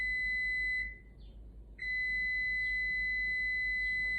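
A kitchen-style timer beeps with a long continuous electronic tone that breaks off briefly and then resumes, fairly faint and alone in a quiet room.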